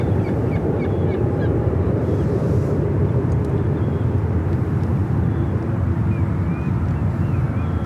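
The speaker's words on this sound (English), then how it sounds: "Air France flight 283 heading back to Paris in the 777-300ER, now lighting up." An Air France Boeing 777-300ER bound for Paris takes off from San Francisco airport, a loud, steady, broad engine roar filling the whole stretch, with faint bird caws and wind buffeting on the microphone.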